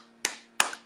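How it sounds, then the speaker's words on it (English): A University of Florida Gator clap, two sharp hand claps a moment apart, close and crisp, with quiet in between and no talking. "Gator clap for everybody, piss everybody off in Georgia."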